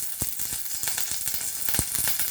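Curry leaves hit hot oil in a pan, giving a crackling, spitting sizzle with sharp pops scattered through a short, close burst.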